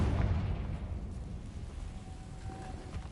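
A Confringo spell explodes in Hogwarts Legacy. It hits with a loud, deep blast at the start, then trails off into a rumbling decay that fades over the next few seconds.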